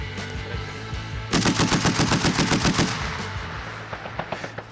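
A Browning M2 12.7 mm heavy machine gun, its tripod weighed down with a sandbag, fires a rapid loud burst of about fifteen close, evenly spaced shots, followed by a few scattered single reports as the echo fades.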